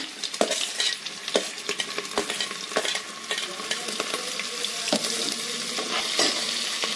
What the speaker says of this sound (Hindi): अच्छे से भून लेंगे इसमें अपनी हरी मिर्च कटी हुई डाल रही हूँ